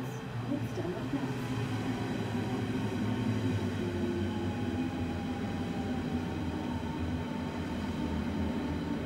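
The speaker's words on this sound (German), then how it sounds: "eingefahrener Zug auf Gleis 4, S26 nach Weidmannslust über Südkreuz, Potsdamer Platz." An S26 S-Bahn train to Weidmannslust stands at platform 4 in Berlin, a steady rumbling hum of the electric train with faint station ambience, continuous and fairly close.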